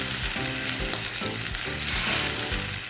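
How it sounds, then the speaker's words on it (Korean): Loud, continuous sizzling of mackerel frying skin-side down in plenty of hot oil in a well-heated pan, crackling and spitting close up, with faint rhythmic low scraping underneath. "잘 달궈진 프라이팬에 기름을 넉넉히 두른 다음 고갈비 한 마리 껍질부터 척하니 올려놓고 지글지글 구워주면"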